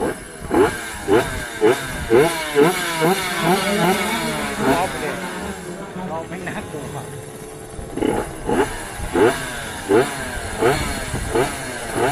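Old cars at a Thai vintage car racing event, engines revving hard in repeated surging bursts close by, a loud crowd and voices talking over the roar throughout.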